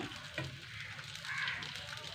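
Chopped onions sizzle in hot oil in a home kitchen with a soft, continuous crackle and hiss, close and fairly quiet, with light stirring scrapes.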